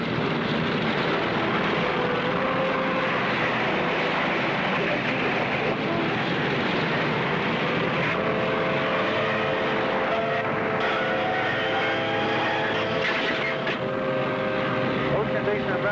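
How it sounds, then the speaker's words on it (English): Multi-engine propeller airliner in flight over the ocean with number 4 engine failed and engines 2 and 3 still running: a steady, loud engine drone with a rising tonal whine, under a voice talking. "Number 4 engines failed now. We have only 2 and 3 running."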